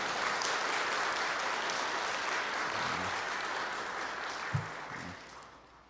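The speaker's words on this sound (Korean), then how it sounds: "여러분들 인사드릴 때 축하와 격려의 박수 부탁드리겠습니다" A church congregation claps in congratulation for a newly ordained pastor, a steady wash of applause lasting several seconds before gradually thinning out.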